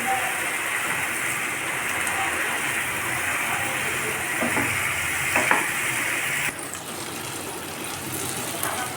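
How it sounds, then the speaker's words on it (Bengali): Fried potatoes tossed into a pan and stirred while cooking aloo dum, giving a steady close sizzle with scraping stirs throughout, a few sharper clinks near the middle. "ভেজে রাখা আলুগুলো দিয়ে দিচ্ছি"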